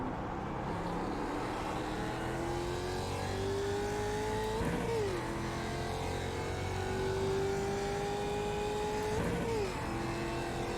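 Mazda MX-5 race cars lap a circuit, a steady engine drone rising in pitch through the gears, dropping sharply twice on downshifts, with other cars' engine noise mixed in throughout.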